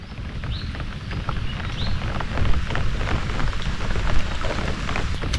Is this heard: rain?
yes